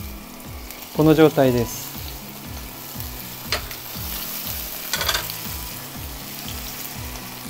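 Cherry tomatoes, cut sides sprinkled with cane sugar, searing cut side down in hot oil already fragrant with garlic and basil, for a Sorrento-style fresh tomato spaghetti; a steady, close sizzle runs throughout, with a brief burst of voice near the start.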